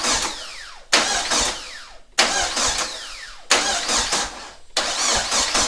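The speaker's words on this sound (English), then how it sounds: "Let's give it a turn over with some of this gear in there" An engine with dry lifters is cranked over repeatedly: four loud, close starter bursts of rhythmic churning, each lasting about a second, separated by brief stops, with no talking.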